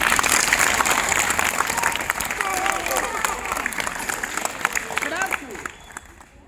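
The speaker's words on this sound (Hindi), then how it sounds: "जोर से तालियां बजा दो सभी।" Audience clapping at a magic show in a girls' senior secondary school, a steady wash of many hands fading toward the end, with children's voices and chatter mixed in underneath.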